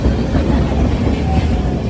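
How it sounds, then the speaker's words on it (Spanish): An old tram rolls past on a city street in Arad, Romania, a steady, loud rumble and wheel noise that stays close and constant throughout. "Ahí viene el tranvía."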